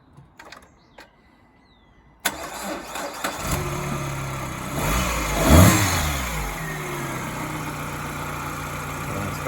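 A Citroen C3 engine cranks and catches after a few quiet clicks, then settles into a steady idle with a brief rev swelling in the middle, close and fairly loud.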